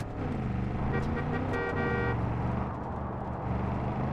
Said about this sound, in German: F für Hupe.